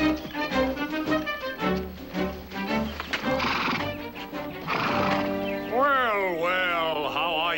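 A horse named Ebony gives a long, loud whinny over clip-clopping hooves, with a voice calling to it through the middle, close by and outdoors.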